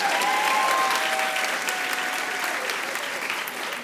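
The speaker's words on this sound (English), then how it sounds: "Give her a round of applause," A live studio audience breaks into loud, continuous clapping that gradually softens over a few seconds, with no voices over it.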